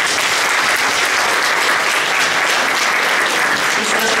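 An audience at a regional volunteering gala in Olsztyn claps loudly and steadily, a dense, continuous wash of applause filling the hall with no voices rising above it.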